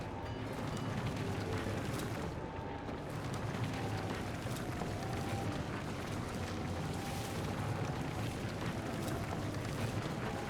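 Rocket engine firing in Zelda: Tears of the Kingdom, a steady loud roaring rush that holds without a break, near and continuous, with no voices over it.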